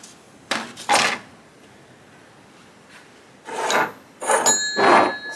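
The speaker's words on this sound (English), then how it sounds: "It's just a quick file around there and it'll be okay." A file rasps around the edge of a hole cut in HIPS styrene sheet in several short, near strokes, a pair first, then a quiet pause, then a cluster of harsher scraping passes.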